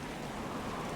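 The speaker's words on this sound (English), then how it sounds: "Rain's still going." Steady rain falls during a stormy sea voyage in Stormworks, a dense, even hiss of droplets with a soft low rumble beneath it, continuous and fairly loud for the full second.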